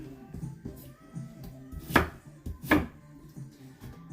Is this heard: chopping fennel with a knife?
yes